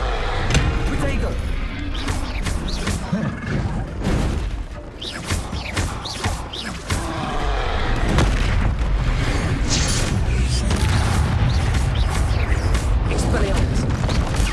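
Bombarda explosion spells in Hogwarts Legacy, a series of loud booming blasts and impacts amid a dense, continuous battle din, with voices speaking over parts of it.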